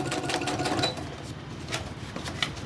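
A sewing machine stitches a second decorative line around junk journal folios, a fast rhythmic mechanical chatter that runs steadily and grows slightly busier midway, with faint voice underneath.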